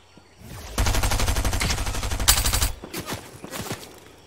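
A sustained burst of rapid gunfire from an SMG in Fortnite runs for about two seconds, loud and close, followed by a few scattered single shots.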